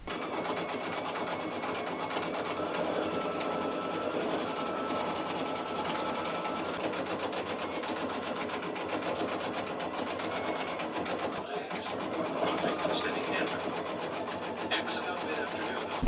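An embroidery sewing machine stitches out a Disney princess design with a steady, fast mechanical whirring and needle chatter that runs unbroken for the whole stretch, close and even in level.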